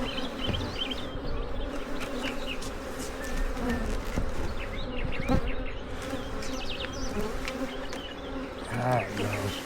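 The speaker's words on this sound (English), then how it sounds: "Get these bees to move on down." Honey bees buzz densely around an open hive during an inspection, a steady close swarming hum with individual bees passing near, and a faint voice briefly under it.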